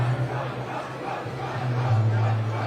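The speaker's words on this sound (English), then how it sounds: "The crowd starting to chant Trump." A large crowd at an Iowa election-night campaign watch party raises a dense, continuous roar, rhythmic voices chanting in unison at a distance and holding steady throughout.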